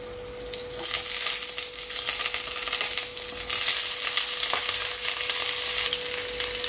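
Sliced ridge gourd hitting a pan of hot oil with nigella seeds sets off a sudden loud sizzle after a brief quiet start, then a steady close crackle with a faint constant hum beneath.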